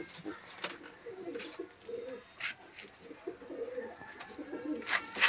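Andara pigeons kept as a hobby flock coo steadily nearby, low rolling calls overlapping in a continuous murmur, with occasional wing flutters and brief noisy bursts.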